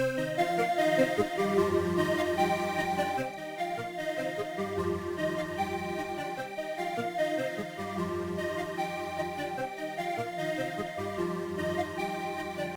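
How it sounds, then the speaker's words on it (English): A sustained Arturia MiniFreak synthesizer drone with rich layered harmonics, steady and fairly loud, holding its tone with slight shifts throughout and no voices. "So I made this sound on the Arturia Mini Freak"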